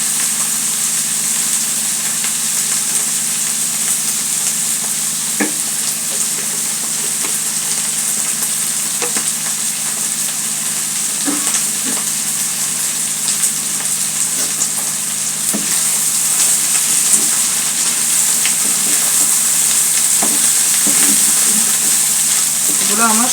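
Food sizzling steadily in hot mustard oil in a home kitchen pan, a loud continuous hiss with occasional scraping stirs, close up and with no talking.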